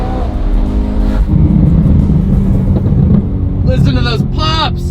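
A McLaren Senna engine revs hard and lets out crackling exhaust pops, a loud close roar followed by sharp bursts near the end, with someone talking excitedly over it.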